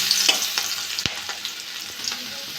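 Garlic frying in hot white oil in a wok makes a loud, steady sizzle close by, with a sharp utensil tap partway through.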